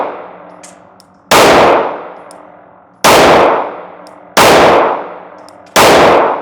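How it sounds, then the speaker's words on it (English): Four loud, sharp gunshots fired at a paper target ten yards away, evenly spaced about a second and a half apart, each ending in a ringing decay, close and alone. "I will be shooting that C portion of the target"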